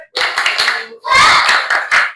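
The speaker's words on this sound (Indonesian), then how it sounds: "Oke, tepuk semangat." A classroom group doing the tepuk semangat clapping chant, two loud, close bursts of quick rhythmic hand claps mixed with voices chanting along, separated by a brief pause.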